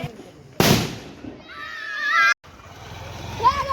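A Diwali firecracker goes off with a sharp close bang, followed by fizzing and crackling bursts, amid a mix of voices and outdoor festival noise.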